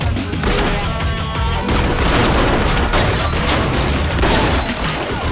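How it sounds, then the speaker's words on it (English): Dense, relentless gunfire from a movie scene, many guns blasting at once in a loud continuous barrage with heavy booms, packed with overlapping shots and no pauses. "these long, indulgent, cacophonous scenes of people just firing their guns"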